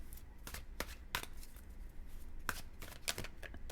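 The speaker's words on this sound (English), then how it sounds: "Let's get a few more cards on this for you." Tarot cards being drawn and shuffled, crisp papery flicks and slaps in quick irregular bursts, close and fairly quiet.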